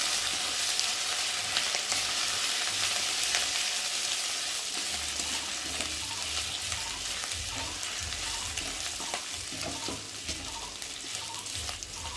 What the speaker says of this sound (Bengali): আদাটা একটু তেলের উপরে ভেজে দিতে হবে